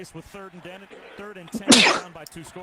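A single sharp, loud sneeze bursts out close by, cutting through ongoing sports play-by-play commentary from a 2011 K-State vs. Baylor football broadcast.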